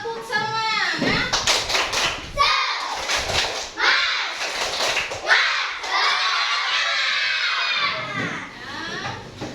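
A classroom of fourth-grade children doing a spirit clap, loud rhythmic bursts of clapping mixed with shouting and cheering voices, rising and falling in several waves over nearly ten seconds.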